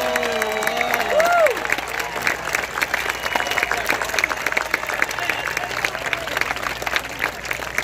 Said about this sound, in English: please join with me in a round of applause for this year's inductees in the Dennis H. Aldridge Hall of Fame, Davi